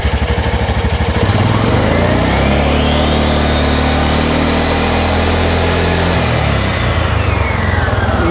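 A Cub Cadet Challenger 500 utility vehicle engine, fitted with new clutches, revs up steadily from idle, holds a loud sustained high-rpm drone for several seconds, then winds back down, heard close and alone.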